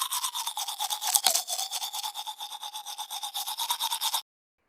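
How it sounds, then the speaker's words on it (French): Toothbrush scrubbing teeth in a quick, steady back-and-forth rhythm, close and fairly quiet, with a brief knock partway through before it stops abruptly. "Je me lave les dents."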